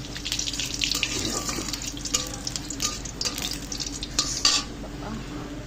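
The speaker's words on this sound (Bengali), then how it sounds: "রসুন আমার ভাজা হয়ে গেছে" Garlic cloves fry in oil with black cumin, a close, moderate crackling sizzle mixed with stirring scrapes and a few sharper clatters of a utensil.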